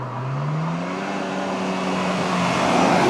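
Honda Accord Euro Type R driving at around 60 to 70 mph, with a steady engine drone climbing slowly in pitch over road and tyre roar heard from inside the car, no talk.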